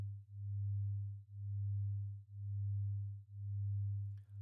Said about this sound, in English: What you hear right now is a phenomena which is called beating.